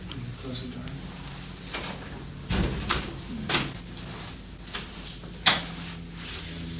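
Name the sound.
door closing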